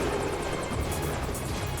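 A helicopter flies nearby, its rotor beating in a fast, steady chop over a loud continuous engine roar, with no voices over it.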